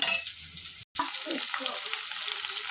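Spice tempering (oggarane) for dahi bendekai masala sizzles loudly in a pan, a dense, close crackling hiss that cuts out briefly for an instant and then continues steadily, with no voices.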